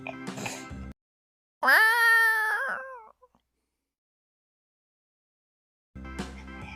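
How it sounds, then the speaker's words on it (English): A cat meows once in a long, drawn-out cry, loud and close, standing alone between short stretches of other sound. "C for cat."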